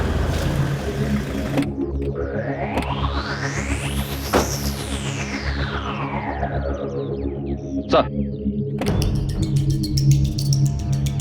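A police superintendent's car approaches and passes by, its engine note rising to a peak and then falling away as it recedes, with background sound cutting in at the start and end.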